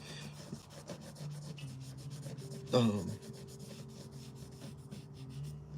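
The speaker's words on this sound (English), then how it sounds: "this is just some pastel, and I just rub it on here" Pastel being rubbed onto paper by hand during a drawing session, a steady soft scraping texture with a brief louder rub partway through, close and alone with a low background hum.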